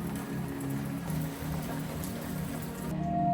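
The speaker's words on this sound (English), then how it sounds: "So I'm working, and it's literally, hold on, literally raining outside." Steady rain falls outside, a soft continuous patter heard from indoors with a faint musical tone in the background.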